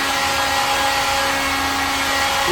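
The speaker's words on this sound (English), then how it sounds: "So we are going to use my little heat gun" A steady, loud whooshing blow with a faint whine, continuous and unbroken like a heat gun running close by.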